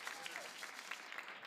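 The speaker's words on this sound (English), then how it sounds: "Let's have another round of applause for the Jerese Johnson Gospel Choir of Middle Collegiate" An audience applauds a gospel choir at an awards ceremony, a short burst of faint, distant clapping with scattered sharper claps standing out.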